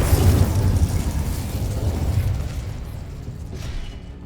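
Incendio fire spell cast in the Hogwarts Legacy video game, a loud low whooshing burst that bursts up at once and then rumbles on steadily before slowly fading, with no voices.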